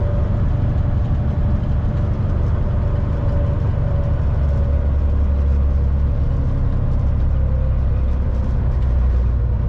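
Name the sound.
Euro style truck engine driving up a hill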